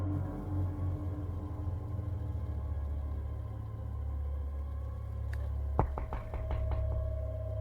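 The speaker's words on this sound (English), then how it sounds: "we hear knocking again" Within a Roblox game, a low steady rumble hums until a short run of sharp knocks lands near the end, about five quick raps in a cluster.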